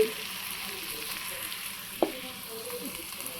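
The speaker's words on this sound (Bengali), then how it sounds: "এগুলো একদম ভাজা ভাজা করে ফেলতে হবে" Onions and garlic frying in a pan give a steady, moderate sizzle up close, with one brief sharp clink partway through and no speech.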